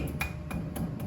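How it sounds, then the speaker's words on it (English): Metal knocks as a hammer drives a screwdriver against the thin dust cap on the wheel hub of a 1983 square-body truck, four sharp taps spaced about a quarter second apart over a steady low hum. "Just smack it with a hammer and a screwdriver"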